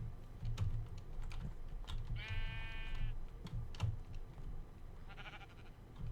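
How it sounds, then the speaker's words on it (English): Sheep bleating in the Minecraft video game, two short harmonic bleats heard midway through and near the end over continuous keyboard typing and clicking. "I was thinking about trying to push a sheep down here."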